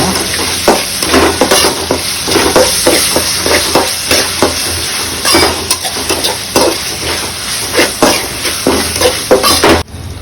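Ginger garlic paste and onions sautéing in a hot pan, loud continuous sizzling with frequent scraping strokes of a spoon as the mixture is stirred.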